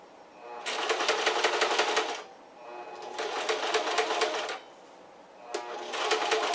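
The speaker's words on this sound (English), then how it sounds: "My sewing machine's working great." A sewing machine stitches fabric in three rapid bursts, each a dense mechanical whir lasting one to two seconds, separated by brief pauses.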